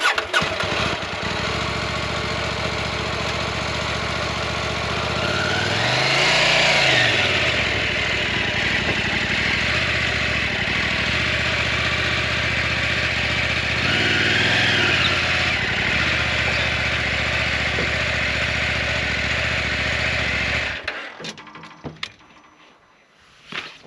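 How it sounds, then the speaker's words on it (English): A KTM motorcycle engine cranks and catches, then settles into a steady, loud mid-pitched idle with a couple of brief revs before cutting off near the end. "So I start the bike up, I put it into first gear"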